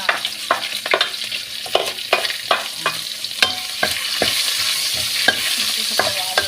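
Ginger, onion, garlic and green chili frying in a pan, a steady close sizzle broken by repeated sharp scraping and stirring strokes, with no one talking.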